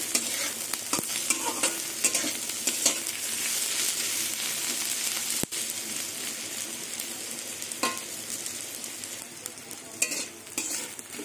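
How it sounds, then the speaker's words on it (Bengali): Sliced onions with chillies fry in hot oil in a pan before amudi fish is added, a continuous close sizzle with frequent stirring scrapes and clicks, no talking. "পেঁয়াজ ভাজা হয়ে গেছে"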